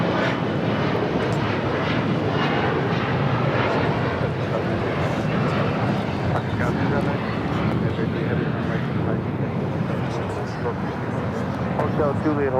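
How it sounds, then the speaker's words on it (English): A United Boeing 787 Dreamliner jet airliner arrives at Los Angeles International Airport, its loud, sustained engine roar rushing through the whole stretch, with wind buffeting and a voice speaking over it. "We just had the United Dreamliner arrive here on the south side"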